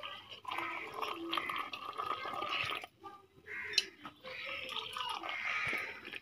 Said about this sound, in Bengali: তো চাটা ঢেলে নিতেছি।